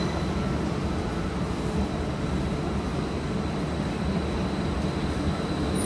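A train sits at a station platform on a London Paddington service, giving off a steady, loud mechanical rumble and hum with a faint high whine, unbroken and even throughout, with no voices.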